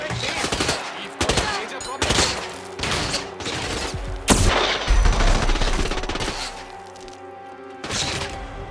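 Heavy gunfire in the Hitman 2 video game, a loud fusillade of rapid shots and bursts with repeated sharp cracks and thuds, close and continuous, while voices shout in the background.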